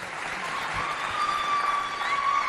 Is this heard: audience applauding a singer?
yes